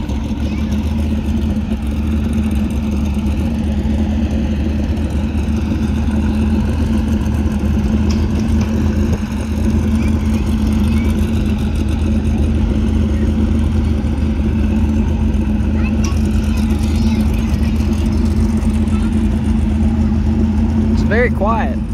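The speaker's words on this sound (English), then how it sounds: "Here comes a turbo Camaro. Twin turbos." The engine of a twin-turbo 1969 Camaro pro-mod drag car idles loudly in a steady, deep rumble for the whole stretch. Crowd and track ambience sit underneath, and a brief rev comes near the end.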